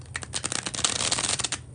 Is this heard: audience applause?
no